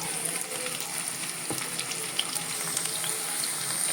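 Chopped okra fries in hot oil with a dense, even sizzle and crackle, close and constant, with an occasional faint knock of a utensil.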